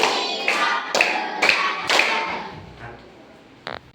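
A classroom of pupils claps in unison during a counted clap routine, four crisp rhythmic bursts about half a second apart that then fade, with a voice briefly heard near the end.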